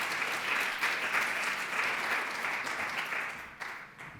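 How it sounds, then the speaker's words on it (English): Audience applause for a musician at a celebration of life and legacy event, a full steady round of clapping from a crowd, slightly distant, thinning out near the end. "let's give our musician another round of applause"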